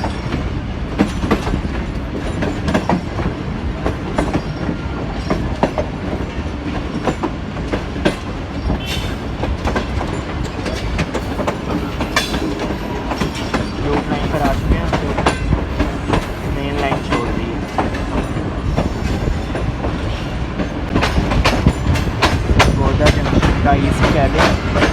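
The Millat Express runs along a Pakistani rail line near Sargodha, a loud, continuous rumble of wheels and carriages with steady clickety-clack throughout, under a voice narrating in Urdu.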